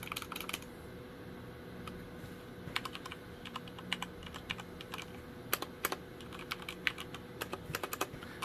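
Keys clatter on a gaming keyboard, either a Corsair K95 Platinum or a Logitech G815, in quiet, irregular bursts of quick taps with occasional sharper strokes, heard close and alone without any voice.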